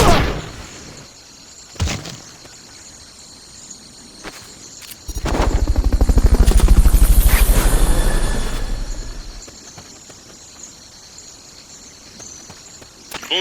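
A loud whirring helicopter from the video game Metal Gear Solid: Peace Walker swells in from about five seconds, its thumping rotor peaking mid-clip then fading, with sharp clicks and faint mechanical tones around it.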